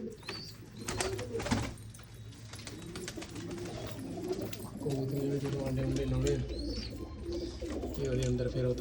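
Pet pigeons kept by a hobbyist coo in repeated soft, throaty phrases close by, overlapping one another. People talk over the cooing for much of the stretch.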